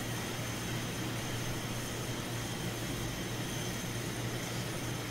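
A Concorde jet in the Roblox game Pilot Training Flight Simulator makes a steady, even engine roar, a constant broadband drone with no breaks or talk.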